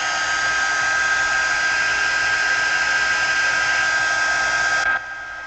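A heat tool blows a steady, loud, whining stream of hot air while drying a handmade card. It runs alone without pause and then cuts to a quieter hum near the end.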